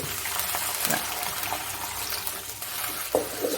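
Water is poured into a pan of sautéed broken wheat for uppumavu, making a constant close splashing hiss that runs the whole time with only small surges; no voices.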